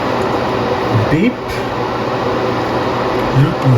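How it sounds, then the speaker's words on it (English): New fans in a rebuilt NAS run at maximum speed, giving a steady broadband whoosh and hum close by that persists throughout, with brief faint tones over the top. "Run fans maximum all the time."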